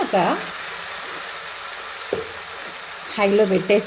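Chicken and onions frying in a pan on high heat give a steady sizzle throughout, with brief stirring and scraping sounds near the start and end.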